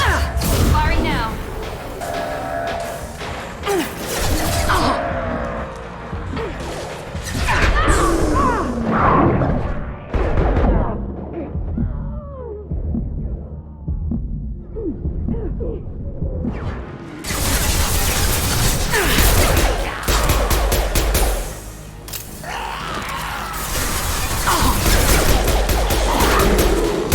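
Weapon fire and explosions in the Mass Effect 2 video game, dense bursts and booms filling the first stretch, easing in the middle, then heavy combat noise returning loud, with talking heard throughout.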